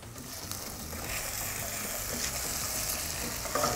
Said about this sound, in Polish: smażymy na złocisty kolor około 7 minut